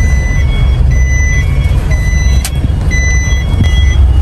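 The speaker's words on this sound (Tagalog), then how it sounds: "Ayan guys, patras ang ating pag-park." A large truck reverses into a parking spot with its reversing alarm beeping in a steady, repeating rhythm over a loud, constant engine rumble, and a sharp hiss cuts in once partway through.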